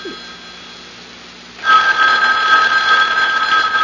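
A telephone bell rings in an old radio mystery drama, a loud, bright, continuous ring that starts suddenly after a quiet stretch and keeps going to the end.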